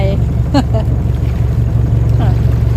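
A boat motors slowly across the water, its engine a steady low drone throughout, with voices talking over it.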